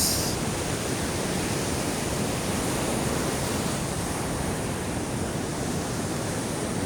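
Big ocean waves whipped up by Typhoon Kristine roar in a dense, continuous wash of surf and wind, loud and unbroken from start to finish.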